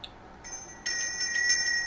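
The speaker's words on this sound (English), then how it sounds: "You can ring the notification bell." Notification bell sound effect: a bright electronic chime that starts partway in and rings on steadily with high tonal shimmer until the end, close and clear with no talking.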